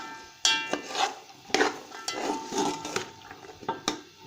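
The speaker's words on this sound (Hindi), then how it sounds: "तो इस तरह हमें मसाले के साथ मटरों को भून लेना है" Spoon stirring peas with masala in a pan while roasting them for matar pulao, with irregular scraping and clinking strikes against metal, close and fairly loud, alone without talk.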